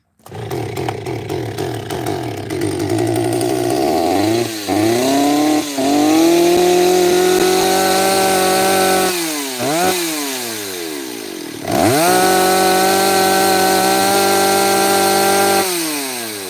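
A loud, close chainsaw for wood carving on a hot Sunday afternoon, revving up and down repeatedly between idle and full throttle, with brief dips as it bogs, running alone without talk.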